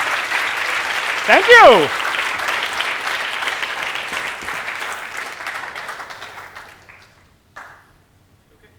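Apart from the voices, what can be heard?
thunderous audience applause after lecture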